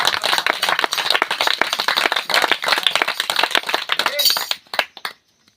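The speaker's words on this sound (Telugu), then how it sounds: "చప్పట్లతో దేవుని మహిమ." A church congregation bursts into loud rhythmic clapping, a dense run of sharp claps that thins into a few scattered claps and then silence, with speech mixed in.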